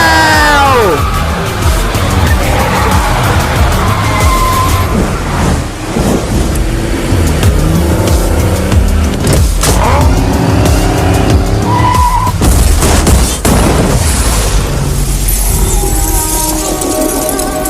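Cars turning and skidding in GTA, a video game: loud, continuous racing engines with repeated screeching tire squeals layered over one another throughout.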